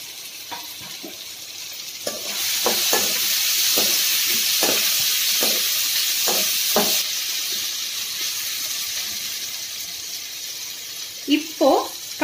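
Capsicum stir-fries in a pan for egg poriyal, hissing steadily while a spoon taps and scrapes in quick, uneven strokes. Brief voices come in near the end.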